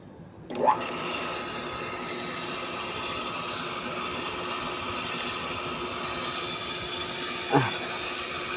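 An automatic water pump with a pressure control switch hums steadily and evenly throughout, with a brief click and surge near the start and another short clunk near the end, no voices present.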